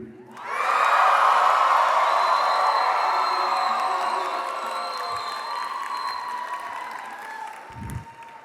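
A large crowd at a college spring commencement cheers, whoops and applauds loudly for several seconds, then fades slowly, with a brief thump near the end.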